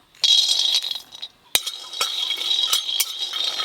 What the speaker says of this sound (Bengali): চীনাবাদামগুলো শুকনো কড়াতে একটু ভালো করে ভেজে নেব